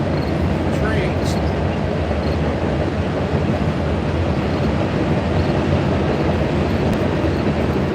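A train passes close by near a river, a loud, steady rumble and rattle that stays constant throughout, with a faint high squeal now and then.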